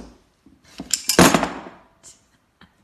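Channel lock pliers are picked up and handled, giving a quick burst of metallic clinks and rattles, followed by a few faint, isolated taps in an otherwise quiet room.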